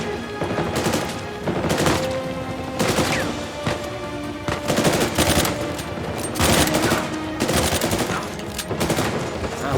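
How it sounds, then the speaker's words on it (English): Rapid automatic gunfire in the video game Uncharted 4, loud repeated bursts of shots arriving in clusters across the stretch, close and dense. "I feel like I'm being shot from behind."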